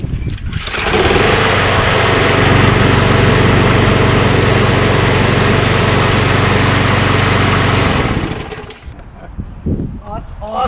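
Craftsman lawn mower running with a swapped-in engine, a loud steady droning hum that starts abruptly, holds near and even for about seven seconds, then cuts off and leaves faint rustling and handling noise.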